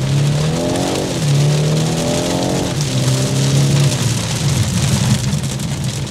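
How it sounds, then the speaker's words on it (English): A 2024 BMW 430i Coupe engine revs up and shifts through rising pitches several times while accelerating in rain, with a steady hiss of wet spray and road noise underneath. "Give her a little go in this rain."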